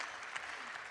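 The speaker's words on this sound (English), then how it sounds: "Historian Charles Allen, another round of applause." An audience at the AKLF 2015 literary festival applauds historian Charles Allen, a brief, faint burst of many hands clapping with no voices over it.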